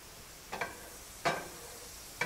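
Butter sizzling in a pan while French toast cooks, a soft steady fry broken by three brief, sharper bursts of crackle and scraping, close by, with no voices.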